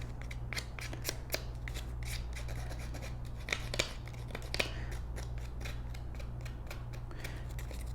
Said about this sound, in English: using the edge of your scissors, we're going to be roughing these up to distress them